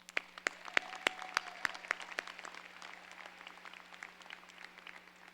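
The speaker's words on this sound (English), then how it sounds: "Let's give them a round of applause." A high school graduation audience applauds; a few sharp, distinct claps stand out at first, then spread into a softer scattered clapping from a large room, fairly quiet overall.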